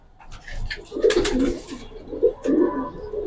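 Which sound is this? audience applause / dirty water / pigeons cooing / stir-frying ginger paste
pigeons cooing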